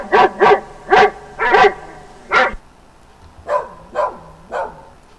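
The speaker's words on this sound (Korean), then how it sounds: "어디서 강아지 짖는 소리가 들리죠?" Two recorded dogs bark in turn: a first dog gives five quick, loud, sharp barks, then after a short pause a second, higher-pitched dog barks three times more softly, both close with no talking over them.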